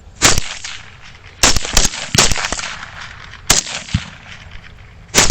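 Several sharp, loud rifle shots fired outdoors during a wild boar hunt, with a quick pair, a few spaced cracks and a final shot, each trailing a short echo.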